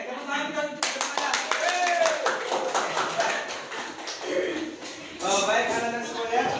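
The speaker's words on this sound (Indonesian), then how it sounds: "tepuk tangan kita semuanya." A classroom of children claps hands together in a quick, rhythmic burst, close and fairly loud, with voices mixed in among the sharp claps.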